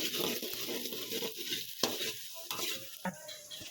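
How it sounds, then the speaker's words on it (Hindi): Onions fry in a pan with a steady sizzle, broken by scraping stirs and a few sharp utensil knocks, close by and with no talking. "सबसे पहले मैं अपनी प्याज डाल रही हूँ। प्याज को फ्राई करके निकाल लेंगे"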